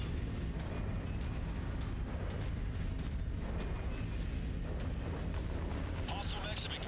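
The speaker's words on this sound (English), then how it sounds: "Hostile mechs have ignited a fuel tank" A fuel tank explodes in the Mechwarrior 5 mech combat game, a loud, sustained rumbling blast with deep booming low end that fills the whole stretch, with crackling debris and mechanical noise layered on top.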